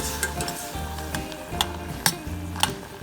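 Cranberries tipped into a pot of bubbling caramel with a cinnamon stick, giving a steady close sizzle with a few sharp clicks and stirring taps against the pot, and no voices.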